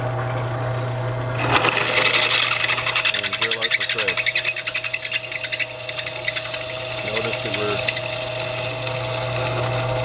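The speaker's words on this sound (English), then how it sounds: "Moving the drill bit in through the T-nut threads slowly." A drill press slowly bores through the threads of a T-nut gripped in vice grips, heard as a steady motor whine with grinding, scraping cutting passages while a person talks over it.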